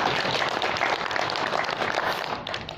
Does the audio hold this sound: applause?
yes